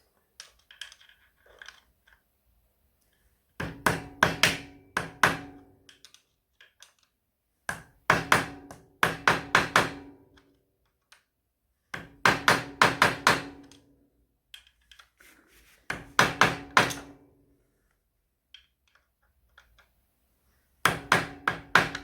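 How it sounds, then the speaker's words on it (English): A small hammer taps a flat-head screwdriver to stake the clutch nut on a 1994 Honda CB750 Sevenfifty RC42 motorcycle, sounding as close, sharp metallic taps in several quick bursts separated by pauses. "using a flat head screwdriver and a small hammer, we're gonna hit this here to lock the nut"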